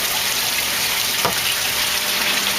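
Clean water streams through a filter screen in a closed recirculating tilapia aquaculture system, a steady broadband rush of flowing water that holds constant and close throughout.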